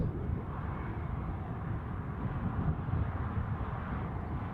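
An Airbus A320neo arriving at Newcastle International airport produces a steady, broad jet roar from the distance, continuous and even throughout with no voices.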